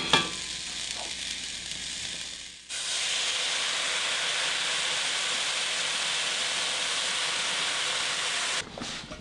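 Hot water poured into a hot pan of kasha bursts into a loud, steady hiss and sizzle. After a quieter start, the hiss holds evenly for several seconds, then cuts off abruptly near the end.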